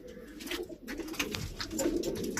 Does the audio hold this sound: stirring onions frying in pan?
no